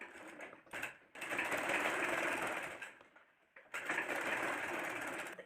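An electric sewing machine stitches the side seam of a pajama in two long, steady bursts of rapid whirring, separated by a short pause, heard alone at a moderate distance.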